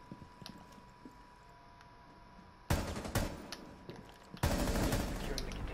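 Two loud, close bursts of automatic gunfire in Rainbow Six Siege, fired through a wall, breaking out sharply after a quiet stretch of faint clicks and game ambience.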